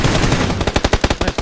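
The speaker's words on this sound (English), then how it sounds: "I shot 8 bullets at him." Rapid gunfire in the battle royale game PUBG: a close, loud burst of roughly eight evenly spaced shots following a brief noisy lead-in, with no speech.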